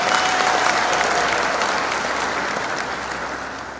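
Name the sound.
applause for trophies at cup launch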